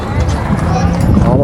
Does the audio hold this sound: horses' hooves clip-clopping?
yes